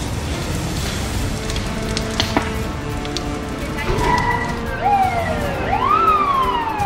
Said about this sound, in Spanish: La sirena de los bomberos gritaba, se abría paso en el tráfico